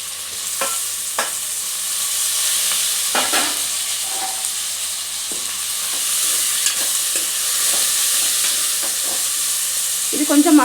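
Chopped tomatoes frying in a hot pan for tomato rice, a loud, continuous sizzle with occasional stirring clacks, close and with no one talking.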